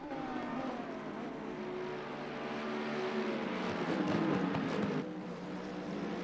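Racing cars, a Mercedes among them, scream along the track at Misano during a six-hour endurance race, engines droning and shifting pitch as they pass, steady and fairly loud with no talk.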